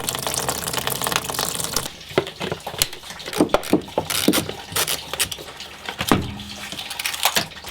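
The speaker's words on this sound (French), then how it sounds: "Pendant que le liquide de refroidissement termine de couler" Coolant drains out of an Opel car in a steady splashing trickle, with irregular pattering drips and small gushes, close by and without talk.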